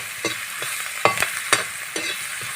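Onion stirred in a hot pan, a steady soft sizzle broken by several sharp scraping stirs of a spoon at uneven intervals, close and fairly loud, with no voices.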